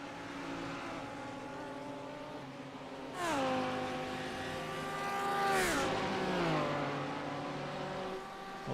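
Race car tyres scrubbing against the track in the iRacing sim at Watkins Glen, a steady engine drone with two sharp downshift sweeps where the tone bends and a squealing scrub rises, fairly loud and close.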